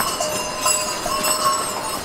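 Hooves of a ridden horse clip-clop steadily on an outdoor trail en route to the Valley of Flowers, with light rhythmic clatter over a busy, noisy background.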